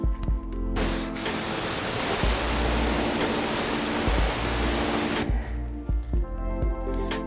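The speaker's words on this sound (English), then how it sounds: "then you can rinse that area out." A strong water spray blasts a car fender liner for several seconds, a loud broad hiss that starts abruptly, holds steady, then cuts off, with faint dripping and knocks before and after.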